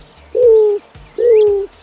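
A male roadrunner gives its territorial mating call, two low, descending cooing notes spaced about a second apart, close and clear against a quiet background.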